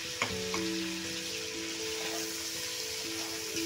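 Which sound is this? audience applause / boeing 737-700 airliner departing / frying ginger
frying ginger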